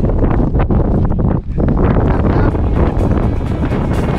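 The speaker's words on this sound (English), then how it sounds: "Windy." Steady, heavy wind buffeting the microphone at Paso Sico, a high Andean pass: a loud continuous roar with a brief dip partway through.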